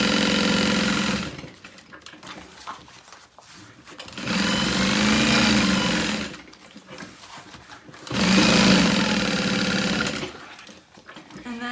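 A sewing machine stitching handbag fabric runs in three bursts of steady mechanical whirring, each lasting a few seconds, separated by quiet pauses with faint handling noises, close and fairly loud.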